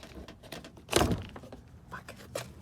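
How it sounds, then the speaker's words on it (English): Interior door card being pulled away from a Honda CRX door, giving one loud thunking pop with a brief rattle, then quieter plastic clicks and scrapes of trim handling close by. "and then you pull the door card away from that."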